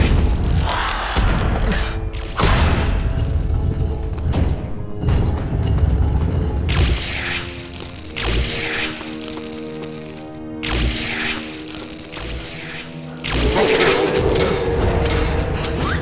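Heavy gates open in the Nox game with a series of loud booming cracks and thuds, separated by brief pauses, under layered game music.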